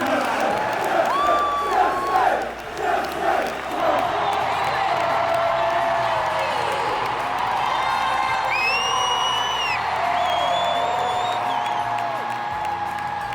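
Crowd of football fans at a London stadium cheers and whoops, a broad roar holding steady, with a voice talking over the noise.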